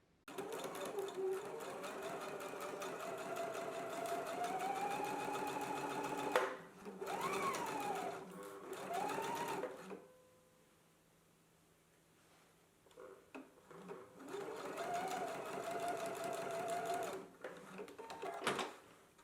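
A sewing machine stitches darts on sleeve linings, whirring steadily in several long runs with a few seconds of quiet between them, close and fairly soft.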